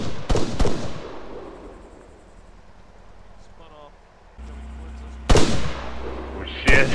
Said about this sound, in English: They want to fire rockets at the church now